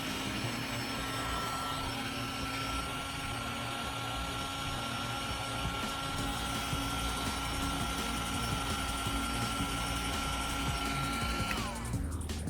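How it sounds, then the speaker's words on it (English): Heat gun blowing hot air while shrinking a plastic bottle top onto the rim of a paint can, a steady loud whirring blower hum with a constant tone that runs throughout and cuts off near the end. "Then use a heat gun to shrink the plastic around the rim."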